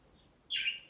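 A single short, high chirp from a pet bird rings out near the end of an otherwise quiet moment.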